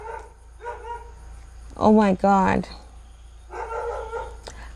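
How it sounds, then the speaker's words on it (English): Dogs barking in the background, a few muffled, fairly distant barks scattered between bursts of a woman's speech. "I believe the dogs are so loud"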